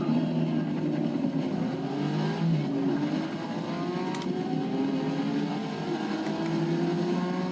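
Porsche race car engine droning steadily at high revs around a track in Forza Motorsport 6, a continuous close motor tone holding throughout with slight pitch shifts and no talk.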